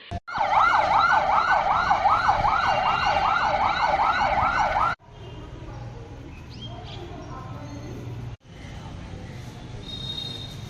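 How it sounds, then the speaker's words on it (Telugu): A private ambulance siren wails loudly and steadily in a fast rising-and-falling pattern for several seconds, then gives way to road traffic and vehicle noise, at the scene of a young man injured falling from a train. "ప్రైవేట్ అంబులెన్స్లో వైద్య సేవలకు తరలించారు"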